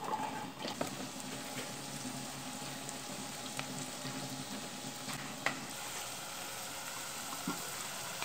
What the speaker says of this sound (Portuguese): Primeiro passo, eu vou fritar aqui a cebola.